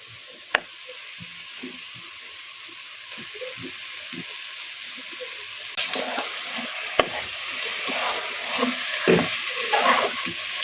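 Goat meat dropped into a small amount of hot oil in a pan, with scattered clinks and scrapes at first, then a sizzle that swells and crackles more strongly in the second half.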